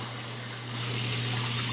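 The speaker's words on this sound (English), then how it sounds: "If I take these jets, I point them down" Water gushes steadily from the jets of a jetted bathtub, a constant close rushing hiss that grows slightly louder partway through, with no talking.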